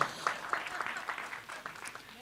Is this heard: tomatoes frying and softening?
no